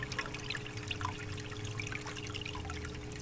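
Water trickles steadily in a crude backyard aquaponics system with a pump and fish tank, a close continuous dribbling splash with a faint pump hum underneath.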